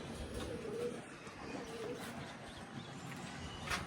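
Faint pigeon coos sound a couple of times on a rooftop where the birds are fed grain, over a steady outdoor background, soft and somewhat distant.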